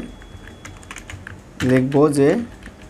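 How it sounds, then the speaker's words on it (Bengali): Someone types a Google search on a computer keyboard: light, quick key clicks tapping close by, then a voice speaks briefly near the end. "তবে গুগলে চলে যাওয়ার পর এখান থেকে আমি লিখব"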